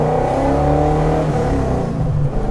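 Car exhaust roaring loud and close with the boot open, a steady deep engine drone with revving swells and a gargling, injected-engine character throughout.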